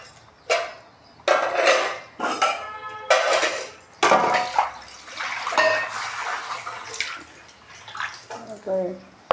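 Dishes washed with running water in a home kitchen: splashing water and clinking pots in uneven bursts, close and fairly loud, with a person talking throughout.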